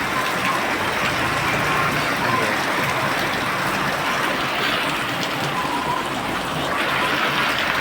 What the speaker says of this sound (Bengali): এই দেখো কত পরিমাণ বৃষ্টি আসতে পারে